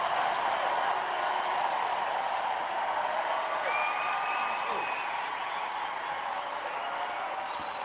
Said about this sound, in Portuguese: O público aplaude efusivamente e vocês ouvem.